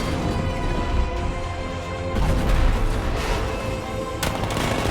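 Heavy cannon fire from an unmanned tank in Batman: Arkham Knight, loud booming blasts over dense battle noise with a sharp report near the middle and another toward the end.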